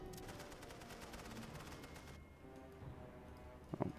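Rapid, steady machine gun fire in a World War I battle game at the Second Battle of Ypres, a dense rattling burst that stops partway through, followed by a few scattered distant shots. Faint and no voices.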